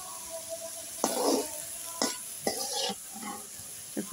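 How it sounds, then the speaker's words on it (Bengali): Ghetkol leaves fry in a pan for a bhorta, with a steady sizzle broken by several sharp scraping stirs of the spatula against the pan. "পাতাটা ভাজা হয়ে গিয়েছে, এখন আমি নামিয়ে নিব।"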